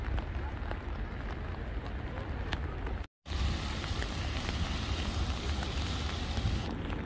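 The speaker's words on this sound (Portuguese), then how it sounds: "tá chovendo pacas" Heavy rain at Peschiera del Garda on Lake Garda, Italy, pours in a dense, steady hiss that drops out for an instant midway, then resumes just as strong.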